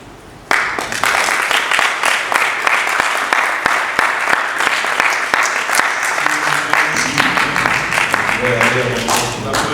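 An audience at a university thesis defense bursts into sustained applause, dense and close, with murmured voices rising near the end.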